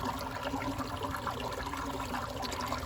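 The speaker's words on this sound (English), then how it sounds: "So we have a creek." Creek water flowing steadily outdoors, a continuous broadband wash and gurgle with no breaks, moderately loud and close, no voices.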